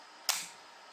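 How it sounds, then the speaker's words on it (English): A Pentax K2 film SLR camera fires its shutter once, a single sharp mechanical click with a short whirring tail, close up and alone against quiet room tone. "when you click this top button, it will expose your film by lifting the shutter"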